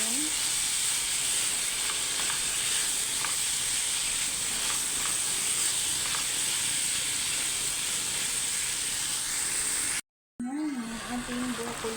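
Broccoli stirred in a butter and garlic pan, giving a steady, close sizzle and hiss of frying for most of the clip, then a brief silence followed by faint continued frying.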